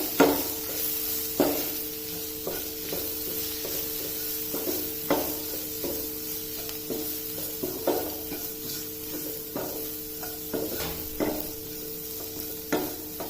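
Onion masala with pepper roasts in a pan for an egg roast, with a spoon scraping in steady strokes about once a second over a continuous gentle sizzle.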